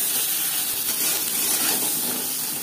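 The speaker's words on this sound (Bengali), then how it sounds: "হালকা করে ভেজে নেব" Spices frying lightly in a hot pan with a pinch of turmeric powder and salt, giving a steady, loud, even sizzle and hiss that holds without pause throughout.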